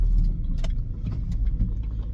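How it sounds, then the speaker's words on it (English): A van pulls out of a petrol station, heard from inside as a low engine rumble with road noise and small rattles and clicks, steady and close, with no talking. "Just pulling out of the petrol station."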